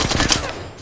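Rapid automatic gunfire in a video game, a quick string of about five close, loud shots that cuts off and fades within a second.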